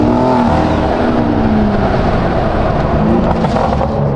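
Tuned high-mileage BMW M4 Competition accelerating hard, a loud, close engine roar with rising revs and gear changes, steady and unbroken with no talk over it.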